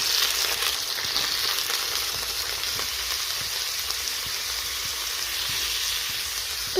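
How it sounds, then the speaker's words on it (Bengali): Vegetables fry in mustard oil in a kadai, a steady close broadband sizzle with faint stirring clicks running throughout, no voices. "সবজিগুলোকে ফ্রাই করে নেবো।"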